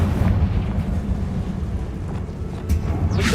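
A Confringo blasting spell explodes in Hogwarts Legacy, heard as a loud, sustained rumbling boom with a dense low-end roar. A sharper burst rises near the end.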